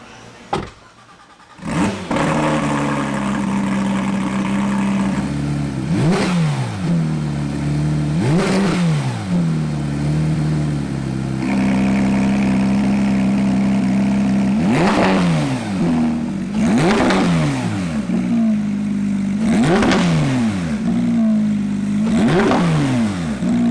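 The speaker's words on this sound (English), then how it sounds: "Let's lower it down, hear what it sounds like." A Racing Yellow 2018 Porsche 991.2 GT3 with its 4.0-liter engine and an Armytrix cat-back valvetronic exhaust revs loudly in a series of sharp blips that rise and fall over a steady idle, with no talking.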